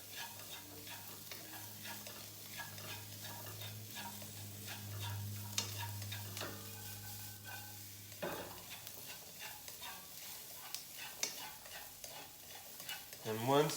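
Onions and green peppers stir-fried in a pan sizzle quietly and continuously, with repeated scraping of a spatula and occasional light clicks.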